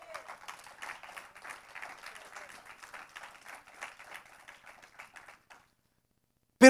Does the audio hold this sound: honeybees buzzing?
no